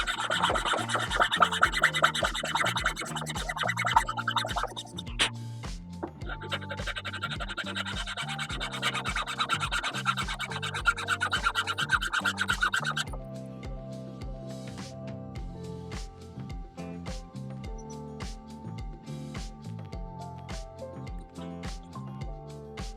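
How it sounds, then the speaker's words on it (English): Apple wood is whittled by hand with a blade for a slingshot, close, repeated short scraping strokes in a steady rhythm, brisker at first and then softer and more regular, over a backing of music. "So this is the slow and steady part, just whittling away."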